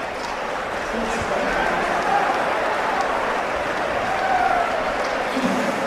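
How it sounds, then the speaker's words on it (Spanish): A boxing crowd applauds at the end of the eighth round in an arena, a broad steady wash of clapping and crowd noise under a commentator's voice. "Y como siempre, el aplauso del público, Ricardo, en un estupendo octavo round."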